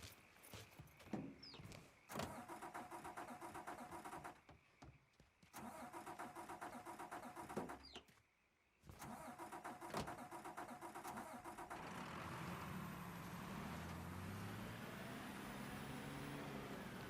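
A car in the video game Mafia 3 cranks over a few times, with short bursts of mechanical noise and brief gaps, then the engine catches and settles into a steady, rising drive drone under a low music bed.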